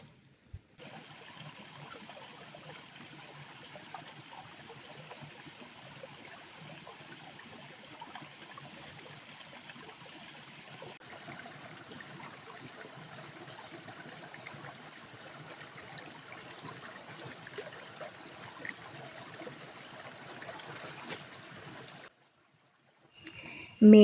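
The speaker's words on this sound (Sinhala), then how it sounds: "මගේ පුංචි පැල ළඟින් ගලා බහින දොලට ගියා" A small stream runs beside a little hut in rural Sri Lanka, a soft continuous trickle and burble of water with no break, then a short silence and a sudden louder noise at the very end.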